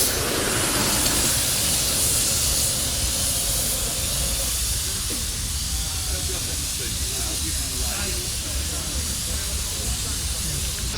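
Steady, loud hiss of escaping steam from a model steam locomotive at a steaming bay runs throughout, with faint mechanical clatter and murmuring voices in the background.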